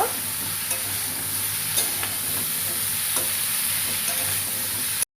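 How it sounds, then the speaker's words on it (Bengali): Crab curry masala with potatoes is stir-fried with salt in a pan, giving a steady close sizzle broken by occasional spoon scrapes and taps, with no talking. "পরিমাণ মতো নুন দিয়ে ভালো করে কষা করে নেব।"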